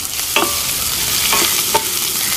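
Chopped onion frying in hot coconut oil with popped mustard seeds, a steady close sizzle for tapioca with fish, broken by a few sharp scrapes of a spoon stirring the pan.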